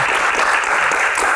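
A short burst of audience applause at an education Q&A event, dense and steady clapping from a crowd.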